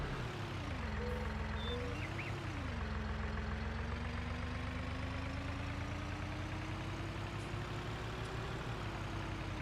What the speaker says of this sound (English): This little 5S is a perfect little yard tractor